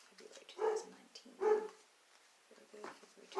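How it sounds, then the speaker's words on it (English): A dog in the background gives three separate barks spaced about a second apart. Quiet talk runs faintly underneath. "I'm sorry about the dog barking."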